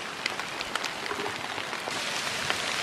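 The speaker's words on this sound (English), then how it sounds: "Hail." Hail falls outdoors during a wet sambar deer hunting trip, a dense steady patter of small ice pellets with occasional sharper ticks, loud and continuous with no talking.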